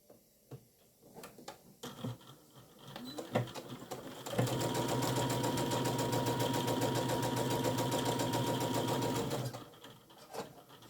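A sewing machine stitches fabric for a homemade tablet case, starting after a few soft handling clicks and running in one steady, fast, close whirring burst of about five seconds before stopping.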